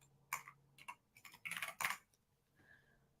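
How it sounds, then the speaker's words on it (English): Keys tapped on a computer keyboard while CSS code is entered: a few scattered clicks, then a denser burst of quick keystrokes, close and fairly quiet, with no talking. "If I could type correctly."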